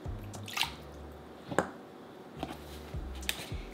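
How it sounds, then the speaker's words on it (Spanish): Homemade broth for a Sam's Club-style chicken recipe strained through a kitchen strainer, giving a few faint, scattered drips and soft liquid splashes in a quiet kitchen. "Luego de los 5 minutos vamos a colar."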